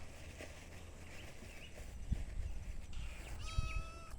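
A tiny kitten gives one short, high, thin meow near the end, faint and close over a low background rumble of room noise and rustling.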